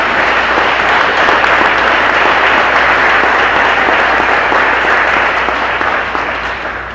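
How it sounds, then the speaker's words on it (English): Sustained, loud applause from a large audience for a symphonic band at a school wind concert fills the space steadily for several seconds, easing slightly toward the end. "So how about another round of applause for symphonic band?"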